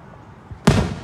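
A single firework bursts on Independence Day with a loud, sharp blast that rings out and decays over about half a second, preceded by a faint pop and quiet crowd background.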